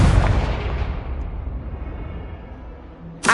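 A Confringo fire spell blast in Hogwarts Legacy booms loudly at the start, then its rumbling tail slowly fades to quiet before a sharp new burst cuts in at the very end.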